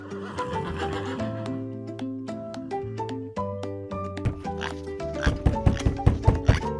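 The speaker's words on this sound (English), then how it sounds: "It's a horse." A horse on a farm whinnies amid a bright, bouncy children's music track that plays throughout, with a run of sharp rhythmic beats near the end.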